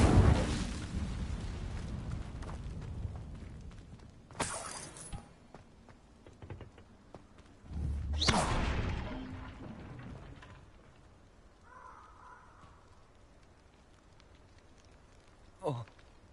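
An Incendio fire spell cast in Hogwarts Legacy, a loud crackling whoosh that bursts out at the start under a voice, followed by two more sharp flaring bursts and a brief final flare.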